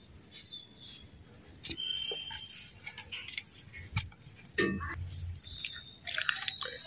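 Water poured onto the soil of a potted Dracaena reflexa (song of India) cutting in a garden setting, heard as scattered drips and splashes, with a fuller pour near the end amid soft background chirps.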